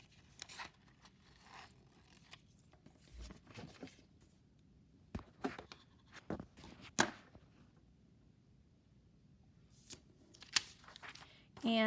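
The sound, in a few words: scissors cutting paper ears for a craft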